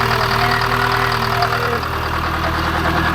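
Detroit Diesel engine swapped into a 1949 Ford F7 truck runs loud and close, holding a strong throbbing note that eases back partway through without any voices.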